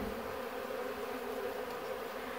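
Honey bees swarm and buzz around hives being fed an essential-oil mixture while they are prepared for winter, a steady dense drone close by with no talk.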